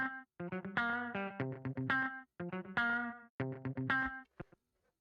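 Edited, effects-laden funk guitars from a heist-style film cue play choppy, distorted chords in short rhythmic bursts with brief gaps, clear and up front with no voices.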